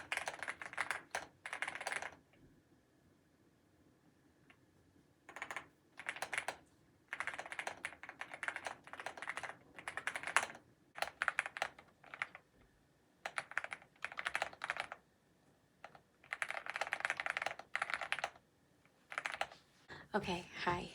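Keyboard typing during a solo writing session, clicking keys coming in irregular bursts with short pauses between them, close and fairly soft against a quiet room.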